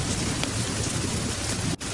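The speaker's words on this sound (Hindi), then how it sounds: "बारिश और तेज हो रही है।" Heavy rain pours in a dense, loud, steady hiss, close and constant, with one brief dip near the end.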